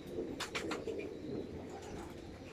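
Wild pigeons coo in soft, low, repeated calls close by, with brief wing flutters and a steady background murmur.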